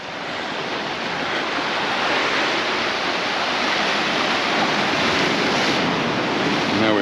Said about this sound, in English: a few waves here just hitting the rocks